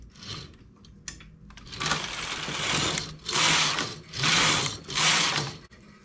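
The carriage of a home knitting machine slides across the needle bed as it knits a row. A few clicks and a mechanical whir come first, then three loud, even sweeps of rattling, clattering passes close to the listener.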